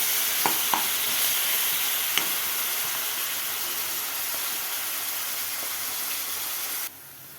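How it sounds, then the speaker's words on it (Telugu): Oil hisses and sizzles steadily in a pan while fenugreek leaves fry for a cluster bean egg curry, with a few sharp clicks early on before the sizzle cuts off abruptly near the end. "ఆయిల్లో కొంచెం ఫ్రై అయ్యే వరకు ఉంచాలి"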